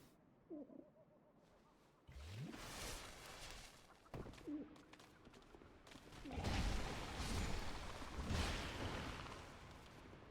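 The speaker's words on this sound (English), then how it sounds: "if you listen very closely, you might hear a bird" A bird calls a few times with short, soft coo-like notes, spaced apart over a busy, noisy background.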